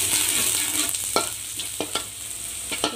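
Garlic sizzles in hot oil in a pan, a dense, steady frying hiss broken by a few sharp scrapes and clicks of a spatula stirring, close and fairly loud.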